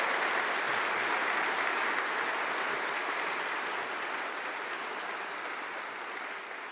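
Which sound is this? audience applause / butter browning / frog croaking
audience applause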